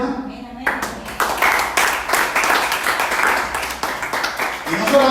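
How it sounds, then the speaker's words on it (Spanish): A church congregation breaks into applause after a preacher's voice, bursts of clapping that swell and continue with voices underneath. "¿Es un aplauso al Señor, hermano?"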